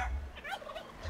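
A short turkey gobble emote from the video game ARK: Survival Evolved, a single rapid warbling burst lasting about a second, clear and fairly quiet.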